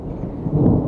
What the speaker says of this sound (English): There's a thunderstorm on its way again